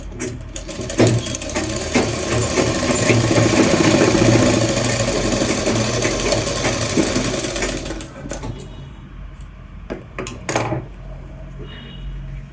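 Sewing machine stitching a churidar, a steady dense mechanical whir running loud for about eight seconds, then stopping and leaving only brief clicks and handling noises.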